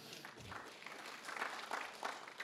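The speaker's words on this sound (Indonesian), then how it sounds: "Tepuk tangan untuk Tuhan." A church congregation at GBI Gilgal Manado claps during a worship service: faint, distant applause that swells in a few soft waves across the hall and then stays at a steady low level.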